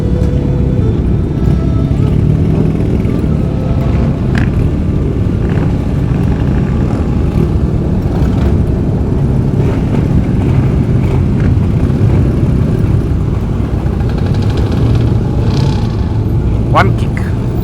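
Two-stroke motorcycles rev and pull away from a traffic light in Cape Town during a group charity ride, a dense, continuous engine roar with rising revs amid crowd noise and talk.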